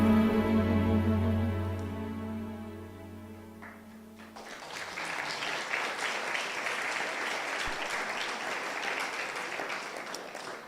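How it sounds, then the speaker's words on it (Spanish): A sustained chord or held tone fades out, then a congregation at a family church camp breaks into broad, steady applause, a rising wash of many hands clapping that fills the hall for the rest of the stretch. "Te aplaudimos a ti, Señor."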